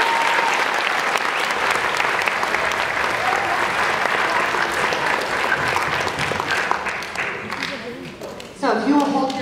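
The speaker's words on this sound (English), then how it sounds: "Another round of applause." A crowd applauds steadily at a school orchestra concert, dense clapping that stays loud throughout and begins to fade near the end as a voice starts speaking.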